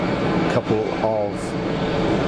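Steady jet engine roar from Boeing 787 Dreamliners at Geneva Airport, a constant loud wash heard from a distance, with someone talking over it.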